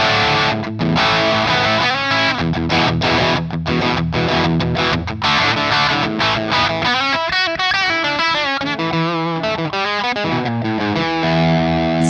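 Distorted electric guitar tone from an ENYA smart guitar, played as a continuous run of strummed chords and single-note lines, loud and sustained throughout with no talking.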